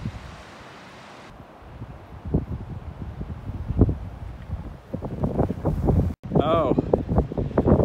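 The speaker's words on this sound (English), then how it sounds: "as you can tell by the camera, it's bloody windy" Heavy wind buffets the microphone in rumbling gusts on the South West Coast Path between Westward Ho! and Tintagel while a person speaks over the roar, with a brief dropout near the end.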